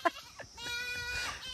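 A goat bleats in a short wavering cry, one of two goats being led along by a herder, with a couple of soft bumps and faint background noise before it.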